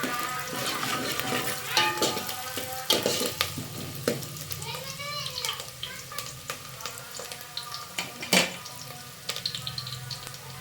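Onions fry in oil in a home kitchen pan, a continuous close sizzle broken by repeated clanks and scrapes of a stirring spoon against the pot, with a voice speaking intermittently over the cooking.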